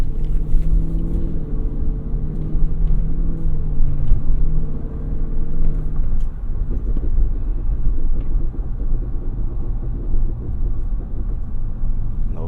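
The engine of a 2024 Cadillac Escalade V gives a loud, steady, deep rumble from inside the cabin, with a drop in tone partway through as the revs ease and a continuing low drone afterward.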